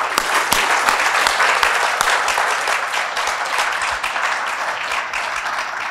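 Loud, sustained applause from an audience after a panel discussion, a dense wash of many hands clapping that tapers slightly toward the end.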